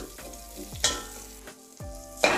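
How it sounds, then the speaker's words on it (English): Garlic cooks in hot oil and is stirred with a wooden spoon. Close, uneven scraping strokes and bursts of sizzle rise and fall over a few seconds, with no talk. "One of my many gorgeous wooden spoons, and just stir this around the oil."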